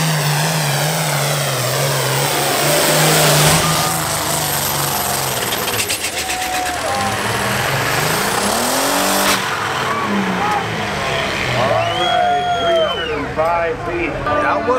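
A tractor engine revs hard at a tractor pull, a loud, continuous roar that rises and falls with sweeping pitch, while people talk over it throughout.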